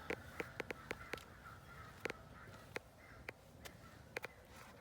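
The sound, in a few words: crows cawing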